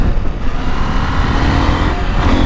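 A 2021 KTM 890 Adventure motorcycle ridden on an open road in the sun, its engine droning loud and steady with strong wind rush throughout, no talking.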